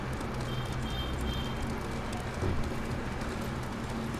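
Horse galloping in the PlayStation 4 game Ghost of Tsushima, a steady dense drumming of hooves with loud continuous ambience and no talk.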